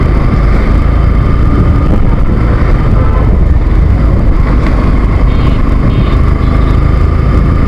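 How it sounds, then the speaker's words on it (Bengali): Loud, continuous engine rumble and splashing as a motorbike pushes through water, with a broad steady roar that barely changes over several seconds and no clear talk. "বাইকটা পানি মারা নিলাম"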